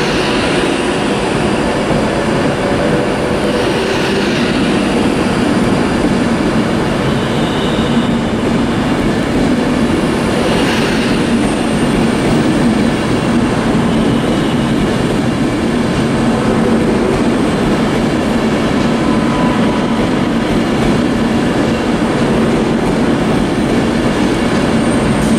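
Class 390 electric train 390-107 pulls out of Edinburgh Waverley station, giving a loud, steady rolling rumble and hum throughout, with faint rising whines and track noise, close by and without voices.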